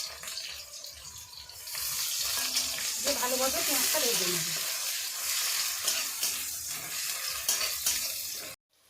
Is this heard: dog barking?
no